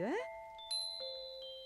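A small bell rings a few bright, clear strikes whose tones hang and slowly fade, following a brief rising sound at the start.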